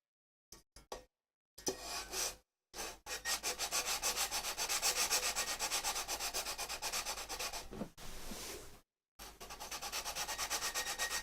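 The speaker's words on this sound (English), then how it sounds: "sanding until we touch all the frets, aligning their curve with the curve of the tool" Guitar frets being sanded with a fret leveling tool, a close rasping scrape in long back-and-forth strokes, steady and rhythmic, broken by a few short pauses.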